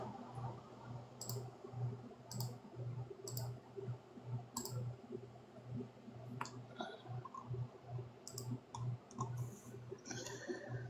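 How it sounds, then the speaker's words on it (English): Keyboard typing in a live ASMR stream, heard as soft, irregular clicking keystrokes in short bursts over a steady, pulsing low hum in the background. "This is ASMR live with keyboard typing."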